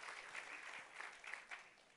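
A church congregation claps hands together in a dense, steady wash of applause, fairly faint and distant, with no voices heard over it.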